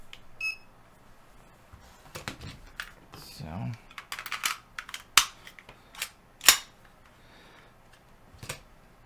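An empty budget compact 9mm pistol dry-fired, giving a few sharp close metallic trigger and slide clicks spaced irregularly, mixed with handling rattles and brief talk.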